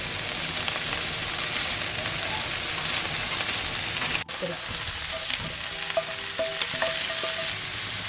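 Shrimp and vegetables fry hard in two pans, a loud dense continuous sizzle heard up close, briefly interrupted by a clunk midway, then quieter crackles and tonal squeaks from stirring, with no voices.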